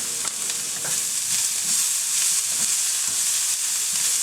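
Green onions stir-frying with beef for lo mein, a loud, steady hiss of sizzling oil with soft stirring scrapes mixed in.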